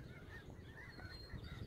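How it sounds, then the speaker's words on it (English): Geese at the Salton Sea wildlife refuge calling faintly over a steady outdoor rumble as more birds come in to land, a loose stream of distant honks with no talking. "there's more geese landing and they go into different quads"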